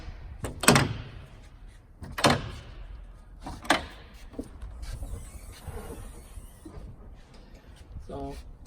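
Compartment door on a 2007 Beaver Patriot Thunder motorhome being opened, with three sharp latch clunks and thumps close by, followed by low rattling and a faint whine.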